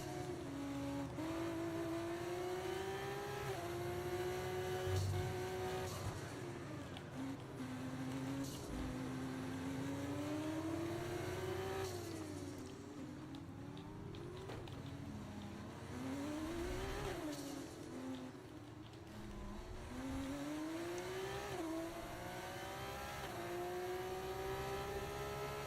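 Formula 1 race cars in the F1 24 video game, engines revving and rising through gear changes in a steady, loud drone with a brief tire squeal, and no talking.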